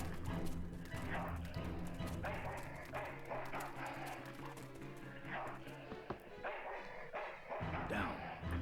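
A dog barks in the adventure game Full Throttle, sharp yaps mixed into a dense, busy game soundtrack with other effects throughout.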